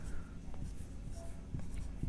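Writing out a solution on a board during a maths lesson on circle sectors and arc length: short, scratchy strokes in quick irregular bursts, fairly quiet, with a faint voice in the background.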